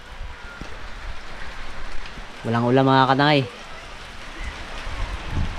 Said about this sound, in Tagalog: Walang tigil-tigil yung ulan.